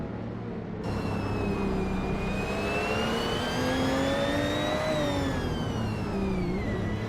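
Racing video game cars, led by a 2009 Peugeot 908 HDI LMP prototype, pull away from the start with a loud, steadily rising engine whine that climbs and shifts pitch over a continuous roaring drone.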